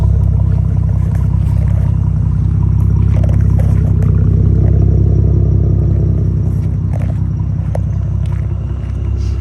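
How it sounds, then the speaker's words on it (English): A deep, throaty supercharged V8 exhaust on a Chevrolet Camaro idles steadily with a low rumbling burble, close and loud, no voices. "Exhaust sounds phenomenal."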